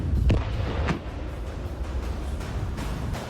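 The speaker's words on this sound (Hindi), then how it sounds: "कीव में यूक्रेन की इमरजेंसी सर्विस ने रूस के एक जिंदा बम को धमाका कर नाकाम कर दिया।" An unexploded Russian bomb is destroyed in a controlled detonation in Kyiv, a single sharp distant blast followed by a deep rumbling roll that fades into a low, sustained outdoor background.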